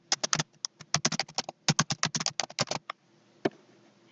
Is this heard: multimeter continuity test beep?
no